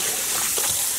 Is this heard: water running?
yes